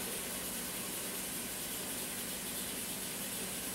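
Tap water pours steadily into a cooking pot for soup noodles as a faint, continuous rushing hiss, with no talking over it.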